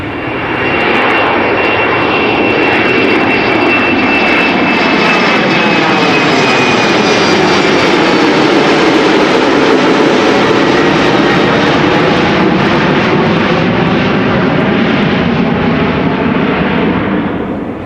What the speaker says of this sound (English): Singapore A350 to Singapore, flight 323.